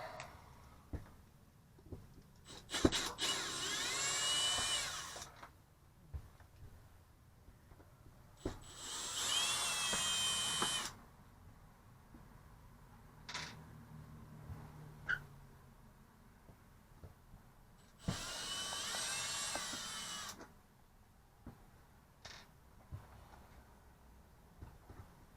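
A power driver backs out the interior trim screws during a Fan-Tastic Fan Model 1250 roof vent install, giving three whirring bursts of a few seconds each, separated by quiet pauses with small clicks and handling taps.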